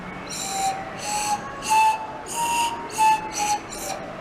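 A series of short, breathy tones from a drinking-straw pan flute, about seven, sounds at slightly different pitches, each airy and hissy, spaced roughly half a second apart.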